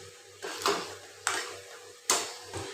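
A spoon stirs catfish curry in a cooking pot: three soft scraping strokes with light clinks against the metal, faint and close, with no talk.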